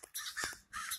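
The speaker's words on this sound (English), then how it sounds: "Don't mind these damn annoying birds in the background." Crows caw outdoors at sunrise, two or three harsh, raspy calls in quick succession, fairly distant and moderately loud with no one talking.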